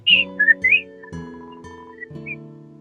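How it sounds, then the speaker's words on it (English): Short, bright whistled notes in the game Undertale, three quick chirps at the start followed by a softer tone, playing over quiet music. "Oh, whoa, what's the whistling?"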